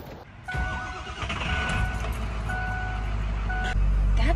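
An old farm truck's engine runs loud and steady close by, a deep continuous rumble that swells slightly toward the end, with faint tonal whines above it.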